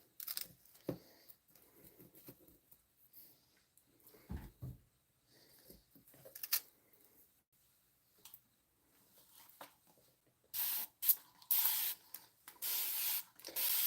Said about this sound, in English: I do spray down the wood that I'm putting in generally.